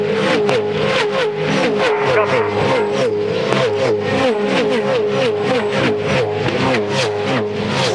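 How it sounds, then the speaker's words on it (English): V8 Supercars at high speed on a race circuit in Tasmania, 2011, with loud continuous engine roar and repeated rising and falling revs as cars pass close by, layered over one another without a break. "The cars are screeching and screaming for Blue Mercy."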